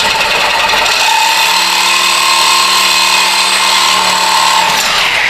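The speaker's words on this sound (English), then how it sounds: "we'll cut the top first because the hanger will hold that bottom one" A power tool cuts through a car's exhaust pipe, giving a loud, steady grinding whine that runs for about four seconds and then stops, with no talking.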